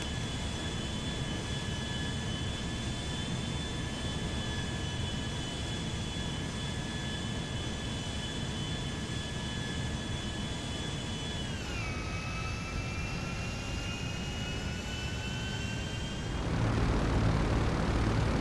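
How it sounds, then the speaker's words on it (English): Aircraft jet engine idling on an aircraft carrier flight deck in GTA 5, a steady whining tone that drops in pitch partway through and then cuts out, leaving a louder rumbling noise near the end. "And now, engine sputter."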